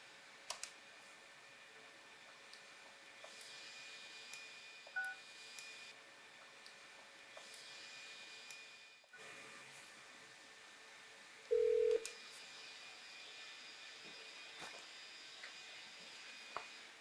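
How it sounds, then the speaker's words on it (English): A telephone call being placed to a giveaway winner, with short dialing tones and a sustained ring tone standing alone against a quiet background, no talking. "I'm going to give him a ring, and we're going to see if he is able to answer"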